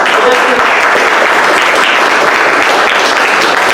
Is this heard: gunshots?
no